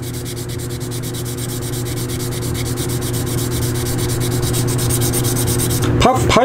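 Steady, even rasping of fine-grit stick sandpaper worked back and forth over a surface, close and continuous with a faint rhythmic pulse, ending in a brief clatter.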